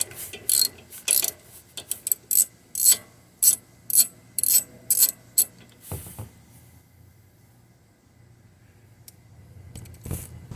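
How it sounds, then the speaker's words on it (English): Ratchet handle clicking in quick, even bursts as a socket twists loose the plug on a Jeep TJ/XJ Dana differential, close and crisp, followed by quieter handling noises and a final clatter of metal. "Just use the end of a normal socket, put it on there and twist it loose."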